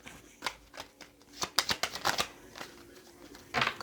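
Tarot cards being shuffled by hand during a reading, a run of quick papery riffles and taps in irregular bursts, close and moderately loud, with a final flurry at the end.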